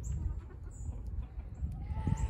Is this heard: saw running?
no